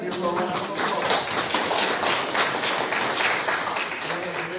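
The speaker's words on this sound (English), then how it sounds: "Let's give her a round of applause." A room full of people applauds at a city council meeting, with dense, steady clapping that carries on at an even level without letting up.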